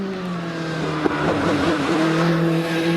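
A 4-litre V8 GR59J hillclimb race car sits on the start line at Harewood, its engine idling loud and close with a sharp rev blip partway through, burbling steadily with no voices.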